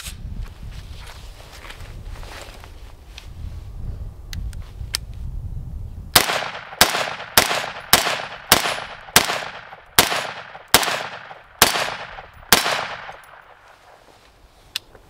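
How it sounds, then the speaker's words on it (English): An AR rifle fires Winchester M855 62 grain green tip rounds at an armor plate, ten sharp loud shots in a steady, evenly spaced rhythm, each with a short ringing decay, following a low rumbling lead-in. "the AR, except we're shooting Winchester M855 62 grain"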